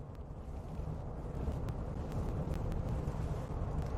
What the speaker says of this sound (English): the winds are definitely getting stronger here